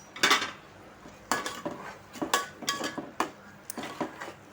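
A metal spoon scrapes and knocks against a pot while coriander, turmeric and chili powder are stirred into chicken curry, giving irregular close clinks and scrapes with no talking.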